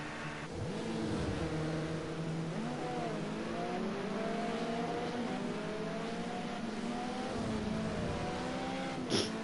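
Modern touring car engines in a sim racing game at Imola, a pack of cars revving and shifting through gears continuously, steady and fairly close, with overlapping engine tones rising and falling.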